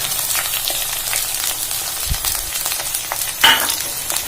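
Onions sizzle in a pan for bachelor-style chicken, a constant close frying hiss with occasional soft scrapes and one sharper clank as they are stirred.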